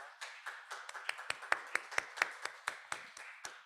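Youth members at a church service clap to welcome a newly appointed minister, a small group of quiet, distinct, fairly regular claps.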